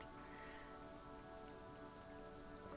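Rain falling in the video game Disco Elysium, a steady soft hiss of sheets of rain over water, continuous and even, with no voices.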